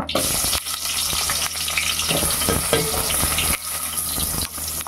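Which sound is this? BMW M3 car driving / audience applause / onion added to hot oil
onion added to hot oil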